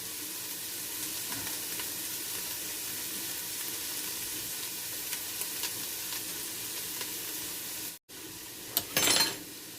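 Steady simmering and bubbling of homemade chicken noodle soup in a pot on a stovetop burner on medium, constant close sizzle followed by a brief clatter near the end.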